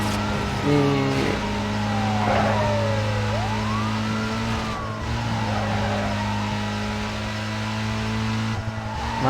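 A police car siren wails in Need for Speed Most Wanted, rising and falling over a loud, continuous car engine drone throughout.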